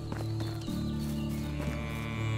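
Within the medieval farming game Medieval Dynasty, a cow gives a low, drawn-out moo that sounds close and fairly loud, with no one talking over it.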